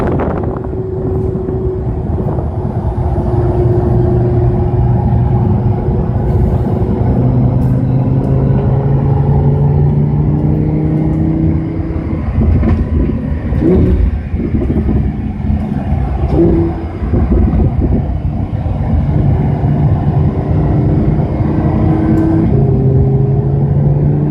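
Cars driving slowly in a line behind a lead car after a session at Monticello, a continuous engine drone with rising and falling tones and some wind buffeting, loud and close throughout.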